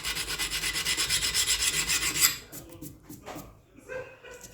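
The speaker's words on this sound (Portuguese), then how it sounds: "vou começar lixando aqui, ó, o dorso com uma lixa 80" 80 grit sandpaper rasps rapidly back and forth along the spine of a homemade steel knife, loud and close for about two seconds, then scattered lighter scrapes and handling noises.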